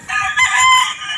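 A red rooster crows once, loud and close, its harsh call rising and stretching out before trailing off.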